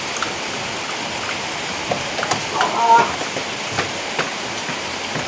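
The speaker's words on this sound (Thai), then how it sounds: "ฝนตกแดดพี่น้อง" Rain falling steadily on a surface at a house, a continuous close hiss with scattered drops and light taps throughout.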